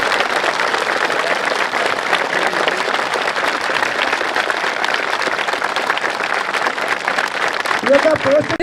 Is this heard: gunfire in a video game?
no